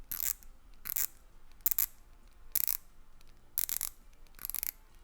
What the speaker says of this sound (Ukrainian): Ну дуже несерйозний звук, коли крутиш його. Якесь таке пластикове клацання.